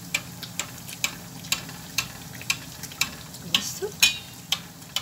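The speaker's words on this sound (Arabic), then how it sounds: "طول ما انت بتحطي الزيت هو بيتنفخ" Dough fries in oil with ghee while oil is spooned over it so it puffs up. A soft, steady sizzle runs throughout, with a regular tick of the spoon against the pan about twice a second.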